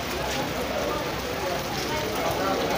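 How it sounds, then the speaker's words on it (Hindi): Heavy rain pours down in a dense, steady hiss without any break, on a road journey to Karachi. "बारिश तेज शुरू हो गई है"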